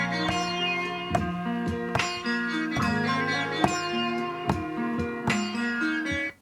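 A chopped sample pitched down and played back on an MPC Live 2, a dense, low, musical loop with choppy rhythmic hits and abrupt cuts between slices.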